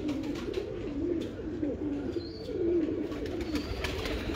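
Show pigeons kept by a fancier coo in soft, repeated low warbling phrases, steady and fairly close, with a continuous murmur of several birds and no talking.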